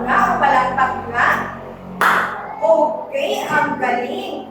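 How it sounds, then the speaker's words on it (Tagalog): A class claps once sharply in unison during a Filipino lesson, with a teacher's voice talking before and after. "Isang bagsak nga o palakpak nga?"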